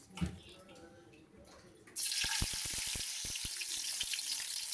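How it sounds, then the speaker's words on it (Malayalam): Quiet stirring at first, then a sudden loud burst of sizzling as onions hit hot oil and ghee, with scattered crackles continuing steadily. "അതിലേക്ക് ഞാൻ കുറച്ച് ഉള്ളി വറുത്തെടുക്കുന്നുണ്ട് കേട്ടോ"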